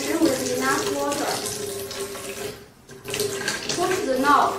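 Water pours into the tank of a diode laser hair removal machine, a steady splashing trickle that briefly pauses and resumes, with a person talking over it.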